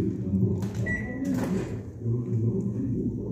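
A microwave oven door opens after the oven finishes preheating for baking choco lava cakes in a home kitchen: a couple of short clunks and a brief electronic beep over a steady low room hum.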